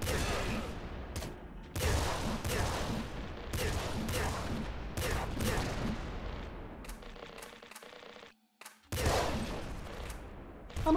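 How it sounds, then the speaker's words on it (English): A heavy minigun in the video game Nuclear Throne Ultra Mod fires in loud, dense, rapid bursts with a brief pause near the end before resuming, close and continuous. "Getting a decent amount of kills with heavy minigun."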